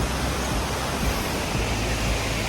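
A creek flowing near a farmhouse on a squash farm gives a steady, broadband rush of water, continuous and fairly close, with no voices over it.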